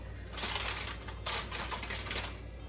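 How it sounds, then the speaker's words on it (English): Aluminium foil crinkles and rustles as it is pressed over a glazed ham, a close, crisp crackling in two main bursts with a brief lull between them; no one speaks. "I'm just gonna cover it up with foil so it doesn't get too cold."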